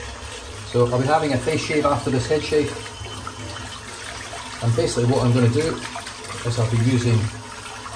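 Running tap water rinses a shaving brush during a head and face shave, a steady close hiss and splash continuing beneath someone talking.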